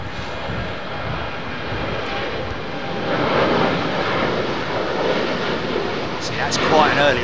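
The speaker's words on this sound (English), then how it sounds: "that's quite an early rotate for a Dreamliner" A Boeing Dreamliner jet takes off at London Heathrow, a broad steady engine roar that builds louder toward the end, with people talking over it.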